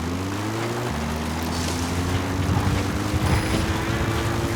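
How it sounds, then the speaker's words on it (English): A helicopter in Metal Gear Solid V drones steadily with a low engine hum and rotor whir that shifts in pitch as it arrives, loud and continuous. "Helicopter requested."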